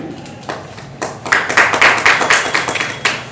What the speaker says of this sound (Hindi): जोरदार तालियों से स्वागत, जोरदार तालियों से स्वागत